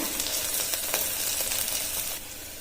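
Onions with turmeric frying in oil, a steady close sizzle with light crackles and occasional stirring scrapes throughout.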